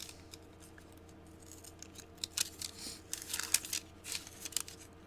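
Scissors snip the corners off paper for a homemade wet palette, giving a series of quick, close, crisp cuts with light paper rustle between them, faint and alone.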